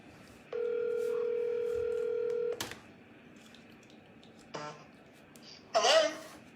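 A telephone dial tone holds steady for about two seconds, then cuts off, followed by a few faint scattered sounds and a throat clearing near the end.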